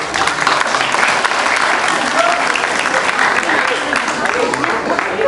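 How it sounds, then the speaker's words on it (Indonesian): Loud, sustained clapping from a theatre audience for a guest named Bang Maulana, dense and close, with voices faintly audible beneath the applause. "Tepuk tangan untuk Bang Maulana."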